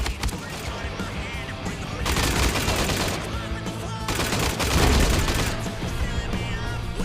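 Rapid gunfire from a video game shooter rattles in dense bursts over a busy music bed, with louder volleys around the middle and end; no speech stands out.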